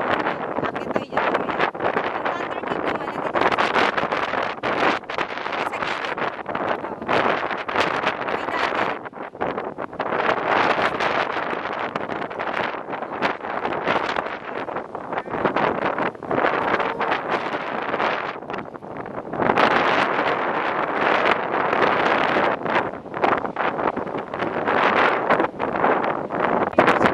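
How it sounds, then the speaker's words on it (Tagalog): Strong coastal wind buffets the microphone on a walk to Cape D'Aguilar in Hong Kong, a loud continuous roar with gusty surges and no clear talk throughout. "Ang lakas ng hangin."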